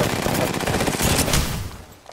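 Rapid automatic gunfire from an Apex Legends firefight, a dense continuous burst of loud, close shots running for about two seconds before tapering slightly at the end.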